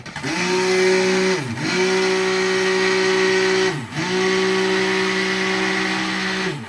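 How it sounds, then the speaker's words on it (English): A stick blender whirs steadily at close range while mixing soap in a big pot, pausing briefly twice before running again in long, even bursts. "Burp the blender."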